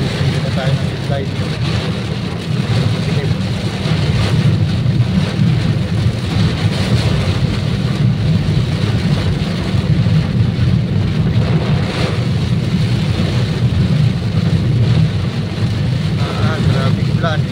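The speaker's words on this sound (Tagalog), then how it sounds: "Grabing ulan." Heavy rain pours down in a constant, dense roar with low rumbling underneath, steady and close throughout, with wind and zero visibility.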